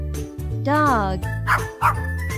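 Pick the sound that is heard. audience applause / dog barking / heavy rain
dog barking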